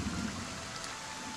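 Steady rainfall hisses evenly across the scene in the Lord Winklebottom Investigates video game, a soft continuous wash with no voices.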